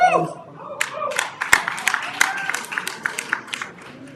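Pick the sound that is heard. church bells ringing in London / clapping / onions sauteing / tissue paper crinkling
clapping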